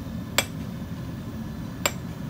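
A tired bladesmith forging with floppy, loose hammer blows: two sharp metallic strikes spaced over a second apart, ringing briefly over a low steady background hum.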